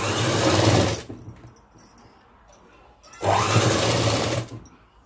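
Sewing machine stitching along a folded cloth edge: two loud, steady whirring bursts close by, each about a second long, with a quiet pause between them.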